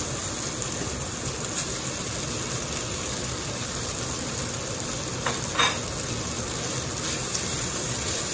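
Garlic and pork stir-fry in a hot pan with a loud, constant sizzle, broken by a couple of brief scraping clatters from stirring partway through.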